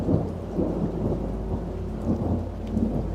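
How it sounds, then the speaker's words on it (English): Low thunder rumbles in the distance under a steady wash of heavy rain, deep rolling swells rising and falling beneath the hiss of drops on surfaces. "Thunder rumbled in the distance."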